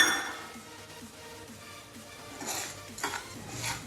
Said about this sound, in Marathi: आता पॅनमध्ये आपण वरई आणि साबुदाणा हे पाच ते दहा मिनटं भाजून घेऊया मंद आचेवर